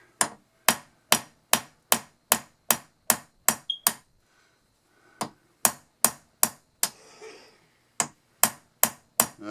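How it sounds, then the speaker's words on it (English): A little hammer taps a sight base on a Winchester Model 1885 rifle, striking in sharp, evenly spaced blows. A short pause and a faint shuffle break the sequence before the tapping resumes at the same steady pace. "I'm only using a little hammer"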